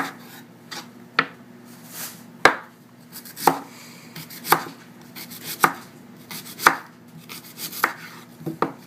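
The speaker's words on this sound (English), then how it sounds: "Okay, and slice those in half." A knife slices sweet potatoes in half on a cutting board, about a dozen crisp, evenly spaced chops close up, with no talk.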